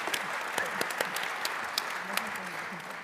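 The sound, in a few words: audience applause for the presidents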